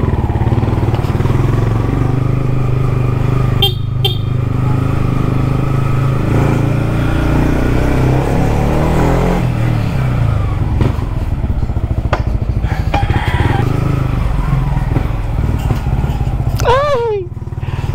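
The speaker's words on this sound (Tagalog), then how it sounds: "Gusto daw marinig ng may-ari yung tunog ng motor niya." A Yamaha MT-15 motorcycle engine runs loud and steady at close range with a deep, continuous throb, and people talk over it.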